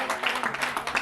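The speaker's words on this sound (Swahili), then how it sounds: "Tupigieni makofi." An audience claps for a sponsor, a company CEO, at a church dinner event, a short burst of steady, dense clapping from many hands lasting about a second.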